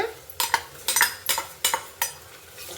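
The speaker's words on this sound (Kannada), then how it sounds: "ಶುಂಠಿ ಬೆಳ್ಳುಳ್ಳಿ ಪೇಸ್ಟ್ ಹಾಕ್ಕೊಳ್ಳೋಣ" A metal spoon scrapes and clinks against a pan about six times in a steady rhythm as ginger garlic paste is stirred into fried onions; close and fairly loud, with a faint sizzle between strokes.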